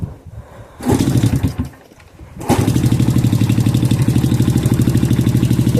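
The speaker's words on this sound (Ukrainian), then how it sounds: "бачимо, мотоцикл завівся, зараз він трохи проробить і виключаємо підсос" A Spark SP125C-2AMW motorcycle engine cranks and catches, coughing briefly before settling into a steady, loud, close idle with an even rapid pulse, no talk over it.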